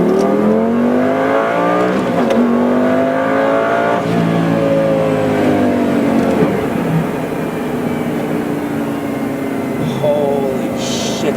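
A Lamborghini Gallardo e-Gear engine revs hard to 8,000 RPM, pitch climbing through repeated sweeps, loud and close, with the throttle held near its peak.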